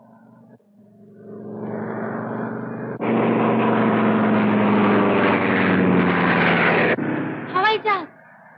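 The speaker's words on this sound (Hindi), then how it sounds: "अरे हवाई जहाज चक्कर क्यों काट रहा है?" A propeller airplane circles overhead in a 1951 film scene. Its loud engine drone swells in and holds strong and steady before cutting off, and voices break in near the end.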